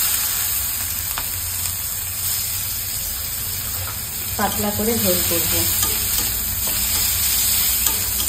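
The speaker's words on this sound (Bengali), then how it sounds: "এ দেখো জিরে দিয়ে দিলাম ফোড়নে, এবারে দিয়ে দেবো 2টো তেজপাতা, এবারে দিয়ে দেবো কুচনো পেঁয়াজ" Chopped onion fries in oil with cumin and bay leaves, a loud steady sizzle with stirring scrapes; someone speaks briefly midway over the crackling.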